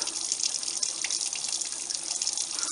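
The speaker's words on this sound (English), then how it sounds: "Our water here should be warm. Warm, and you have to fill it up." Warm tap water runs steadily into a kitchen sink being filled for washing dishes with Dawn dish soap, a continuous close hiss and splash with no talking.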